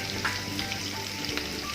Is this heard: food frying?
yes